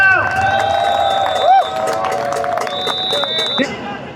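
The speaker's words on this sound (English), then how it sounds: "Let's clap it up for New York City right now." A large crowd in Times Square at a nighttime Ramadan prayer gathering cheers and claps steadily, a dense, loud wash of voices and scattered whoops with whistles and tonal noise mixed in.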